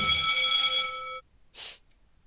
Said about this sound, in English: The ringing of the school bell shocks me out of my thought process.